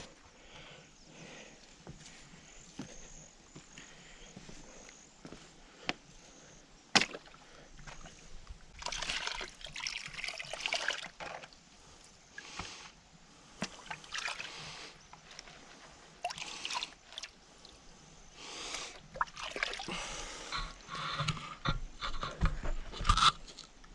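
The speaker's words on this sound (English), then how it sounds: "I'll pan down to some concentrates and we'll go and see if there's any colours in there." Gold panning in ironstone gravel: water sloshes and stones crunch and rattle in the pan in irregular bursts, with sharp clicks of gravel, close and fairly quiet throughout.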